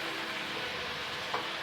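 Spices frying in oil for a green chilli and carrot pickle, a steady, soft sizzle with a faint constant hiss and one brief stir or clink, with no voices.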